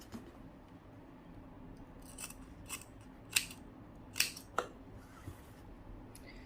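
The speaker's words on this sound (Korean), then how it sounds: "자, 이렇게 잘라주시면 되세요." Scissors snip through fabric strips for bias tape in a few sharp, separate cuts at an uneven pace, close and fairly quiet over a soft room hush.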